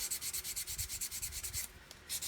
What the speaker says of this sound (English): then we're free to sand to our heart's content